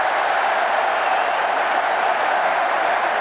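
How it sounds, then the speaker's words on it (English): A large rugby stadium crowd roars during a Rugby World Cup 2019 quarter-final between Japan and South Africa, a dense, loud, continuous cheer with no break. "Just listen to the cheer from the crowd."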